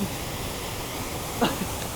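A waterfall near Ponce, Puerto Rico, heard as a steady, broad rushing roar that stays constant throughout, with a brief voice cutting in once near the end.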